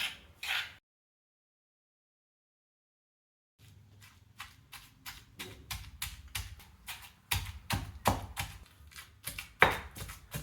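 Banana flower chutney pounded coarsely in a stone mortar: after a brief knock and a few seconds of silence, a run of close, irregular thuds and grinding strikes builds in pace and force.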